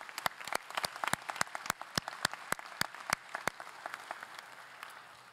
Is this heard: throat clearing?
no